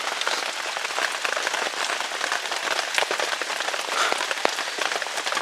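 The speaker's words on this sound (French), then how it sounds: "il pleut presque à l'horizontale là, donc du coup c'est en train de tremper l'intérieur du camp" Heavy rain pounds a tarp over a bushcraft bivouac camp in the Limousin, a dense, continuous drumming of drops driven almost sideways by the wind, steady and close throughout with no voices.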